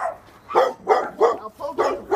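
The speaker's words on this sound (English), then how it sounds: "That's just the neighbor's dogs." Neighbor's dogs barking in a backyard, five or six sharp barks in a loose rhythm at moderate distance, with short quiet gaps between them and no talk.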